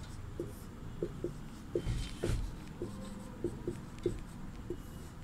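A hand writes answers for a Hindi class exercise, a quiet series of short pen strokes and taps in an irregular rhythm, close up with no talk over it.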